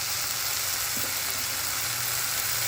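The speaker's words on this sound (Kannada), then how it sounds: "ಒಂದು 2 ನಿಮಿಷ ಚೆನ್ನಾಗಿ ಫ್ರೈ ಮಾಡ್ಕೋಬೇಕು" Tomato frying in a pan for palak chicken fry, a steady close hiss and crackle of sizzling oil running throughout without pause.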